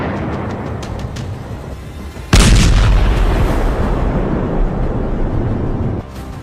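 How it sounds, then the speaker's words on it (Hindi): A bomb explodes in Lebanon: after a few seconds of rumbling background, a sudden loud blast erupts and rolls on for several seconds before dropping back to a dull roar. "लेबनान में 24 घंटे में 40 बम फटे।"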